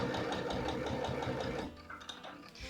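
A sewing machine stitches red thread into an apron, a close rapid mechanical chatter of the needle running steadily, then slowing into a few short, uneven bursts as it backstitches.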